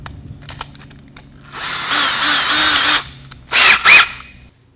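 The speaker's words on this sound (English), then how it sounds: "The most important part of drilling these holes is to get it sighted properly at the very beginning." A power drill bores bolt holes along the keel center line of a wooden boat under construction, a sustained whine followed by two short, loud bursts, close and with no talking.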